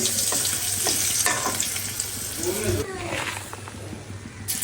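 Onions go into hot oil in a pan for cooking hilsa fish, giving a loud, steady sizzle and frying hiss with some stirring and clatter, with a voice talking over it.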